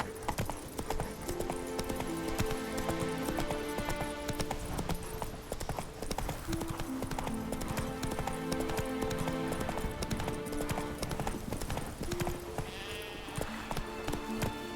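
A horse gallops in The Witcher 3: Wild Hunt, its hooves pounding in rapid, steady clip-clop rhythm throughout. Dense music and game ambience play underneath, and a brief bleating call rises near the end.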